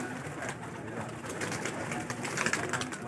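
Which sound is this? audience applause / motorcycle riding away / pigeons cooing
pigeons cooing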